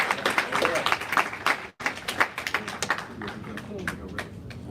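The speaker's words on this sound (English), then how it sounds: "Give him a big round of applause." An audience at a speaking event applauds Brother Umar Johnson, giving rapid, uneven clapping with short sharp hits that runs almost continuously, with one brief dip. People talk over the clapping throughout.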